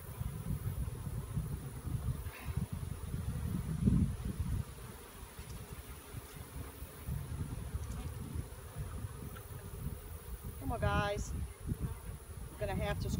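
A steady swarm of honey bees buzzing close by during a nuc hive transfer, droning continuously with occasional louder passes near the ear.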